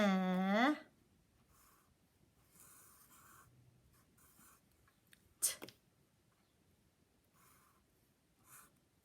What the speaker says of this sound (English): Let's write it.